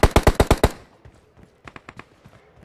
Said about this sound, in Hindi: फायरिंग चल रही है यहाँ पे।